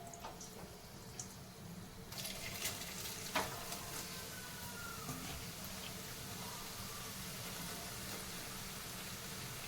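Homemade potato chips frying in hot oil, a faint continuous sizzle and bubbling with occasional clinks and scrapes, steady throughout with no voices.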